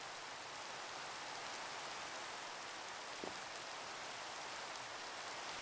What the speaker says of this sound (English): Oh my god, freaking rain.